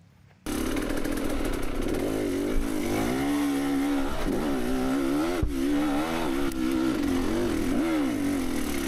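Enduro motorcycle fitted with an XTNG Gen 3 Plus carburetor revs hard and continuously, its engine note rising and falling in repeated waves after a brief quiet start, loud and close.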